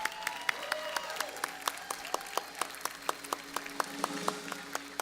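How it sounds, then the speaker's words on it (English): Light, scattered applause from a modest audience at a senior women's pageant, distinct individual claps ringing out in an irregular rhythm, fairly quiet and unaccompanied by talk. "very loud Pasadena round of applause"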